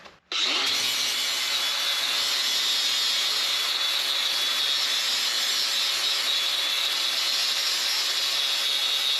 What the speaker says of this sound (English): Let's get this ground down real quick.